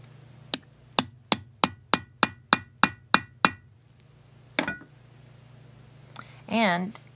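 Steady series of about nine sharp metallic hammer taps on silver over a jewelry shot plate, evenly paced and close, followed by a softer knock and a brief rattling scrape.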